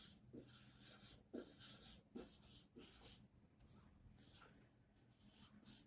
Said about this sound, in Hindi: तो यहाँ हम लोग लिखेंगे उत्तर, पीथियस